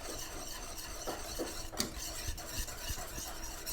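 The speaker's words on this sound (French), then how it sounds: "Comme la préparation devient liquide, je me suis équipé d'un fouet." A whisk stirs a liquid mixture of coconut milk and cornstarch for a sweet potato pudding, giving soft, quiet scraping strokes against the bowl under a steady background hiss.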